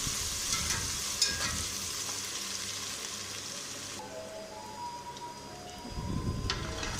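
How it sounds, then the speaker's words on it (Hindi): Ginger, garlic and green chilli paste fries with onions in a pan for a chicken chole dish, giving a steady soft sizzle with a few light stirring scrapes, close but quiet and with no voices. "अब इसके अंदर हमने अदरक लहसुन हरी मिर्च के पेस्ट डाल दिया। इसको भी हमें थोड़ी देर के लिए फ्राई करना है।"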